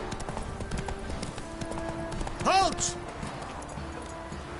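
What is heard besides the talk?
horse Roach's hooves clip-clopping, from the video game The Witcher 3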